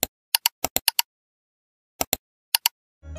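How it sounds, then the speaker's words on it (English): A computer mouse clicks in sharp, isolated taps up close, several quick clicks in a cluster, a pause, then two more pairs, with near silence between them. "it's a computer mouse. We use a mouse to click and move."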